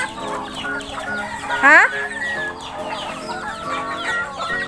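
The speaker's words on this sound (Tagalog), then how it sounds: "Kalain mo itong mga manok." A flock of many chickens, mostly white birds, kept at a rural bahay kubo home in the Philippines, clucks steadily from nearby. One bird gives a louder crow-like squawk partway through, and a person speaks briefly.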